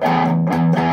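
A Stratocaster electric guitar through an amplifier's overdrive channel plays a loud, distorted chord that rings, dips briefly, then is struck again, thick and sustained with no voices.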